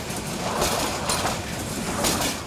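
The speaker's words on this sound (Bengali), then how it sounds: "সাপের মতো আঁকাবাঁকা রেলপথ, ট্রেন উঠতেই দুলছে।" A train rolls over an old, winding, snake-like railway line near Sreepur, Gazipur, in Bangladesh, rocking as it goes; a steady, close rumble and rattle of wheels on the track fills the whole stretch with no voices.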